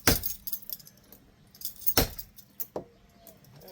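A bump key is struck in a house door lock during a rekey of a foreclosed home, giving sharp metallic taps and jingling clicks at irregular intervals. Two strong hits stand out, and the clicks ring close and clear with no talk.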